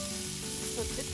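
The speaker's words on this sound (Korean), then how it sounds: "솔로 스토브 위에 솥뚜껑을 올려보았습니다" Pork belly sizzles on a cast-iron pot lid set over a Solo Stove Ranger fire in a backyard, a steady close crackle with brief louder spits and no talk over it.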